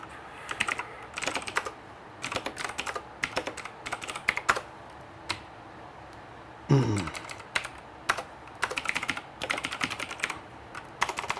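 Close, quick bursts of typing on a computer keyboard, clattering keystrokes arriving in clusters separated by short pauses, with a single low tonal blip in the middle.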